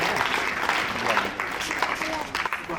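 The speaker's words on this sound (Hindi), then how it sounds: "एक बार जोरदार तालियां होनी चाहिए रिंकी कुमारी के लिए" Applause for a student, Rinki Kumari, at a prize event at a girls' higher secondary school in Katihar: a dense, steady wash of clapping from a gathered crowd lasting throughout, with some voices mixed in.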